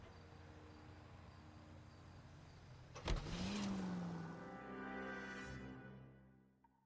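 A car in L.A. Noire starts up after a sharp click, its engine rising into a loud whine that swells and then fades, following a quiet steady hum with no one talking.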